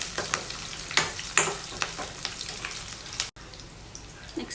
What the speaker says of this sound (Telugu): రెడ్ చిల్లీ యాడ్ చేసిన తర్వాత ఇవన్నీ కూడా మరొకసారి మిక్స్ చేసుకోవాలండి.